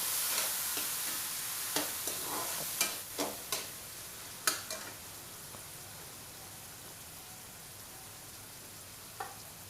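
Tomatoes and green chilies cooking in a pan with ginger and garlic for an aloo gajar matar sabzi, giving a steady broadband sizzle with a series of sharper clinks and scrapes from stirring through the first half.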